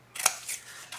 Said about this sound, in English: and I'm going to cut the score line.